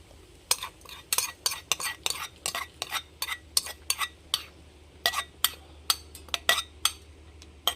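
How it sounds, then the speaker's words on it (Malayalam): A spoon stirs fried onions into crab thoran masala in a pan, making a run of sharp, regular scraping clicks about twice a second with a faint steady hum underneath. "അപ്പോൾ നമുക്കിതേ ഒന്ന് ഇളക്കി യോജിപ്പിക്കുക"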